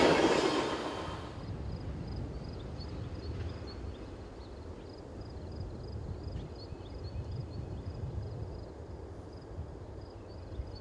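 CSX freight train led by a C40-8W locomotive paired with a 1994 pre-production Dash 9 climbing a gentle rise from Woodmont on the Cumberland Subdivision in Maryland; a continuous rumbling roll of passing cars with a faint repeating clatter, steady and alone.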